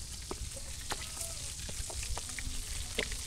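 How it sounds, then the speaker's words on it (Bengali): Large prawns with turmeric and salt frying in a pan, giving a steady soft sizzle with scattered small pops and light stirring clicks, close and quiet, without talk. "চিংড়ি মাছগুলো আমার ভাজা হয়ে গেছে"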